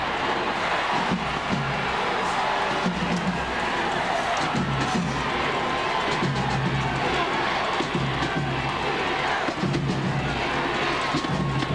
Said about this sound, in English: you can really hear them picking it up right now to cheer their Sentinels on